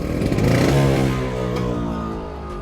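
1978 Vespa Sprint Latin 150 two-stroke scooter engine revs up close and loud, holds a buzzing high note, then eases down to a steadier drone with no talk over it.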